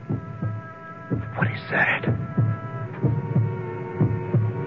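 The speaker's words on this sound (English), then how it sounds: "It's my heart beating. I'm hearing my own heart." A heartbeat sound effect in a radio mystery drama pulses in slow, regular low thumps under a hum, while a voice speaks a brief line over it.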